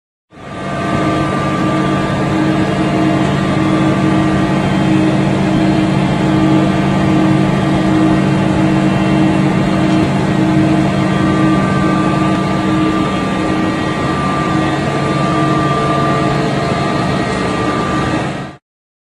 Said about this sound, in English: Space station.